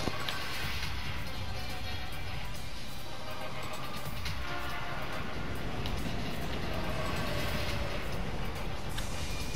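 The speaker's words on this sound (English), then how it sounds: "I'll go on the train." A train rides along in the Teenage Mutant Ninja Turtles game, a steady, loud rolling rumble with faint rattling that continues without a break and with almost no talk.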